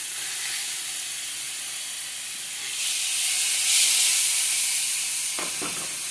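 Pork steaks on an Ozark Trail griddle give off a loud, steady sizzle and hiss that swells a little midway, with a couple of brief clatters near the end and no voices.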